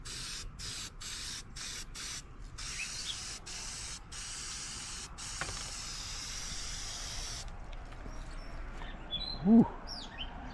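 Spray paint hisses onto a car headlight on a 1987 El Camino, coming in short, close bursts early on and then a longer steady spray, followed by quiet and a faint clatter.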